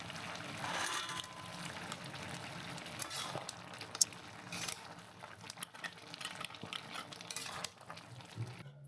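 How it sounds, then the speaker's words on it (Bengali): Spoon stirring bottle gourd greens with fried lentil bori in a pan, soft scraping and faint sizzling in quiet, irregular strokes. "আবার একটু নাড়াচাড়া করে দিই"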